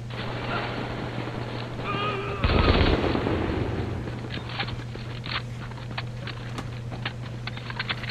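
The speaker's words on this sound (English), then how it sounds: "Machine gun is just amazing." Machine gun fire in The Division video game, a short loud burst near the middle followed by scattered sharper shots and clicks over a constant low game hum.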